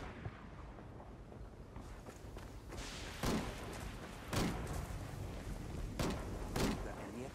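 Gunfire in Ghost Recon Wildlands arrives as a few separate sharp shots, each with a dull thud, spaced a second or so apart against low background battle rumble, moderately near but fairly quiet overall.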